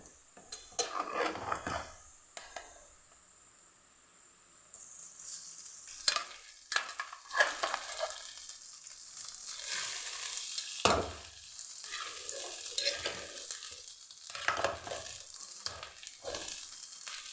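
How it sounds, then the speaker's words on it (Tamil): Cooked rice being stirred into fried onions in a pan for garlic rice, with close, irregular scraping strokes of a spoon over a low frying sizzle, in bursts with brief pauses. "நமக்கு எந்த அளவுக்கு சாப்பாடு தேவையோ அந்த அளவுக்கு நல்லா கிளறி விட்டுக்கலாம்"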